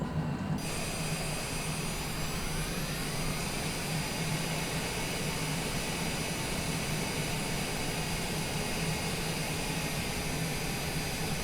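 Steady, loud roar of airplane engines on the ground while taxiing down the runway before a takeoff in hot weather, with a constant whine over a broad rumble, close and continuous throughout.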